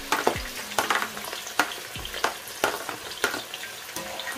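Sliced onions fry in oil for a Ghanaian garden egg stew. A soft sizzle runs underneath while sharp spoon stirs and scrapes come in an uneven rhythm, close and clear, with no talking.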